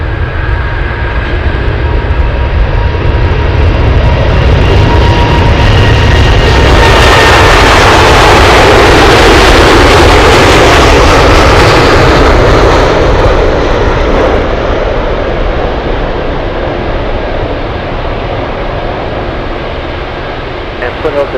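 A Boeing 747 jet takes off from runway 7 left at Anchorage airport, its loud continuous engine roar swelling to a broad, rushing peak midway, then slowly fading and thinning as it climbs away, with radio voices audible underneath.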